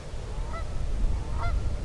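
Geese honk a few times at a distance over a low rumbling background.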